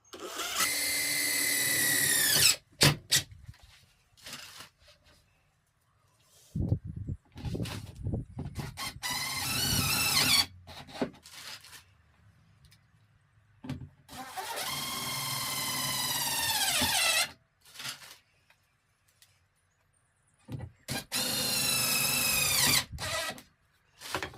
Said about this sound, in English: Putting these self-tappers in, don't go majorly fast